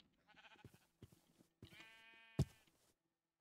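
A video-game sheep gives several short, quiet bleats in a row, each one bright and tonal, with gaps of silence between them and no other sound.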